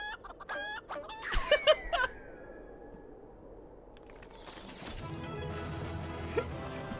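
A chicken in Final Fantasy XIV clucks in a quick, loud burst of sharp calls up close, then falls quiet before a broad game rumble and ambient noise take over.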